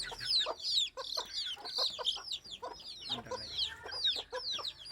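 Several chickens cluck close by in quick, overlapping bursts, with no talking.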